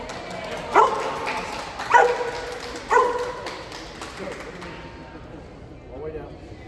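A dog gives three sharp, evenly spaced barks about a second apart, close and loud, followed by quieter rustling and faint background activity.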